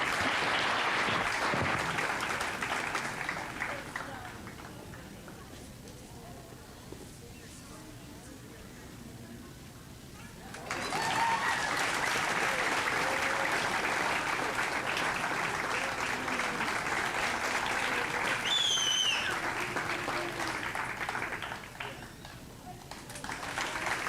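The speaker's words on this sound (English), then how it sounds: "Give these kids another round of applause." Audience applause for kids in a junior fair livestock show arena, a long sustained round of clapping that dips briefly then swells again, with some talk mixed in.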